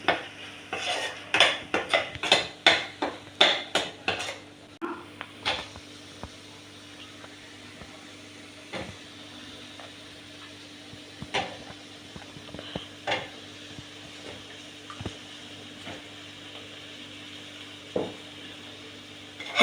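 Kulambu chilli powder and spices being sautéed in a pan for Tamil kara kulambu, with frequent scraping and clinking of a metal spoon against the pan and a faint sizzle underneath, busiest in the first few seconds, then sparser stirring.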